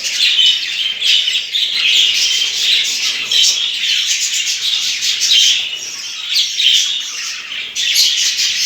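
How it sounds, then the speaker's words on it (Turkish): Several pet budgerigars squawk and chirp busily nearby, a dense, overlapping chatter of calls with no talking. "Kuşlar beni görünce hemen zaten yukarı kaçtılar."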